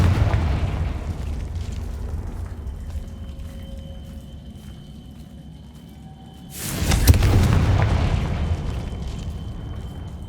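Confringo fire spell explosion in Hogwarts Legacy, a sudden loud broad boom about two-thirds through that lingers as a rumbling roar over a low steady game ambience.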